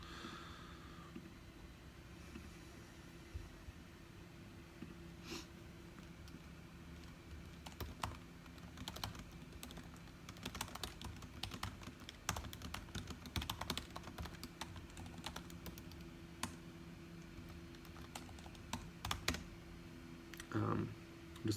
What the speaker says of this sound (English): I'm just typing it.